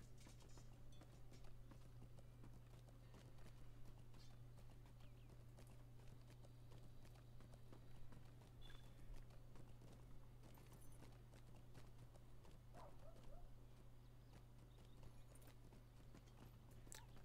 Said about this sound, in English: I can definitely feel the fact that this is a slower horse.